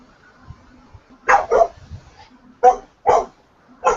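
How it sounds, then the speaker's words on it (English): A dog barks sharply about five times in short, uneven bursts at close to mid distance. Only faint room noise lies between the barks, and no one speaks. "Dog alarm."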